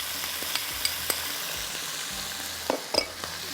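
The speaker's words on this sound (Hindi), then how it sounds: "बस इसको थोड़ा सा भूनते हैं" Minced meat fries with ginger and garlic in a pan, a soft steady sizzle broken by occasional scraping and stirring clinks of a spoon, close and fairly quiet.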